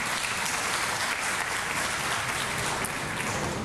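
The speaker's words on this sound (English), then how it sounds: "please give her a round of applause and thank her for being here" An audience claps through a steady, dense round of applause at a ribbon cutting ceremony for the LAX airport police facility, the clapping sustained and fairly distant without anyone speaking over it.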